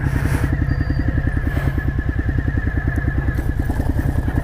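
A sport bike rolls slowly over loose gravel, its engine putting out a steady, close, low pulsing throb with faint crunching and clatter above it, continuous for the whole stretch and with no talk.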